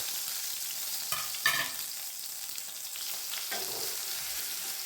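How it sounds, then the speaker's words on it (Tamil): Garlic frying in oil in a pan for coriander thokku, a soft steady sizzle with a few brief clinks of a stirring utensil. "இதையும் சேர்த்து நல்லா எண்ணெயிலே பொரிய விடலாம்"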